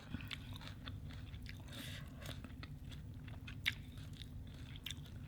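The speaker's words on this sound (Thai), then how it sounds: "วันนี้เรากิน ลาบหมู เพื่อน ผักไทยเยอะแยะเลยค่ะ" Close, soft chewing and biting while eating spicy Thai minced pork larb with plenty of fresh vegetables, with irregular crunchy bites and small mouth sounds over a low steady background, no talking.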